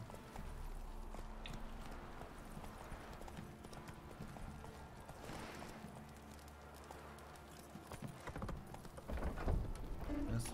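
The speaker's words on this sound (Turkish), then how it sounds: "Ne kadar uzakta olursa olsun at direkt geliyor ya." A horse's hooves clip-clop steadily in The Witcher 3, a rhythmic trotting over game ambience that grows busier and louder toward the end, with no talk.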